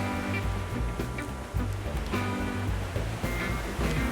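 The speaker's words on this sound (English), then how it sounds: "we're going to deglaze the pan." Pan deglazed while mushrooms and shallots cook, a dense steady sizzle and hiss with bubbling crackle, loud and close, continuing evenly throughout with no talk.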